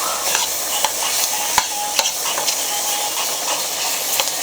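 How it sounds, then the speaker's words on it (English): Onions cooking in turkey grease and flour for gravy, a soft continuous sizzle and hiss with a few sharp stirring clicks and taps, close and moderately loud, no talking. "the rest of the grease that's inside of the flour and the flour itself is actually gonna make those onions cook"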